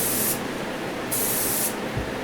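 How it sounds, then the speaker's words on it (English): A model car, a Johnny Lightning 1969 Pontiac GTO Judge, gets a light first coat of red spray paint: two close, sharp aerosol hisses of about a second each, separated by a short pause. "here I am putting on the first coat of the red"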